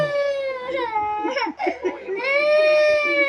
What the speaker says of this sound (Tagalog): Ba't ka umiiyak?